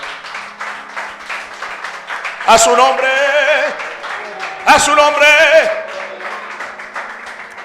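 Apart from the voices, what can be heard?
congregation applauding in church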